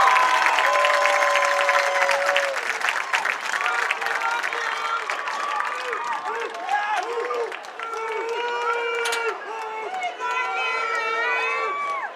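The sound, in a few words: crowd applause for seniors and parents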